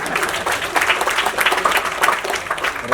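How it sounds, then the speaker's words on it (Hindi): A theatre audience at a foundation-day arts event in Shimla breaks into loud, dense applause, a continuous crackle of many hands clapping with no voices over it. "ये छोटी सी लव स्टोरी के लिए एक बार जोरदार तालियां।"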